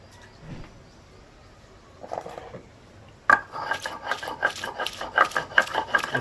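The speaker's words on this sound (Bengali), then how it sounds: "এগুলোকে একটু বেটে নিই" Gadal leaves being ground into a paste, with a steady run of close, gritty rubbing and scraping strokes that start faint and turn louder and rhythmic partway through.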